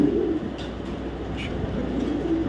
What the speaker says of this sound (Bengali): ডাইরেক্ট পোল্যান্ড থেকে ইম্পোর্ট কবুতর